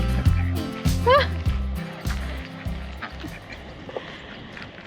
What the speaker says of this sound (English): there's just a whole bunch of ducks here